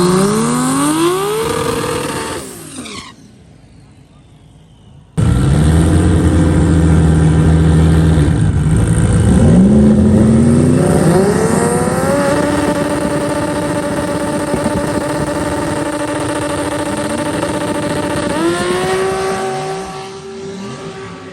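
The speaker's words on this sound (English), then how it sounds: "So now let's get to the drag racing." A 2JZ-swapped Camaro at a drag racing event, its engine revving hard with rising pitch through gear changes, a brief lull, then a long loud sustained pull climbing through gears before easing off.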